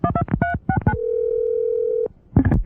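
A telephone dial tone hums steadily for about a second, set between brief electronic beeps and tones at the start and end of a call placed to a post office.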